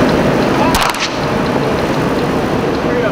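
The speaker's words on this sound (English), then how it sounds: "That's a sniper." A single sharp sniper rifle shot cracks out in Iraq, one loud report with a brief echoing tail, set against a constant noisy outdoor wash.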